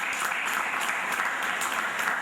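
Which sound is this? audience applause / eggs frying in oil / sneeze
audience applause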